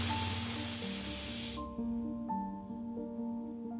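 A pressure cooker full of vegetable pulao vents steam in a loud, rushing hiss that cuts off abruptly after a second and a half, leaving a quiet hum behind.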